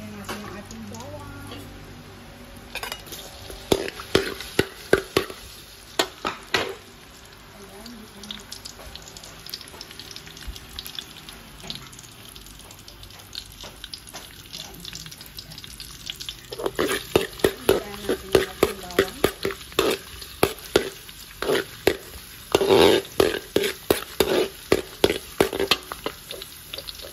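Garlic sizzles softly in a pan for sinantolan with pork and coconut milk, with bursts of clattering utensil scrapes and stirring over the faint, steady frying hiss.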